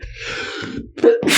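A single sharp human sneeze, close and loud, with an audible in-breath before it and a bright burst at the end, during a tabletop role-playing game session.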